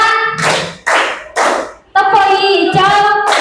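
Children in a classroom clap-game clap in short bursts of several sharp hand claps alternating with voices chanting and calling out, loud and close.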